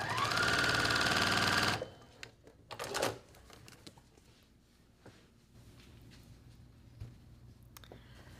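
Sewing machine stitching quilt pieces in a short, loud, steady whir lasting under two seconds, then stopping, followed by faint clicks and handling sounds in a quiet room.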